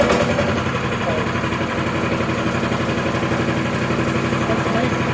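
EFcut C30 engine running just after a pull start, a steady close mechanical drone with a fast pulsing rhythm that holds evenly throughout.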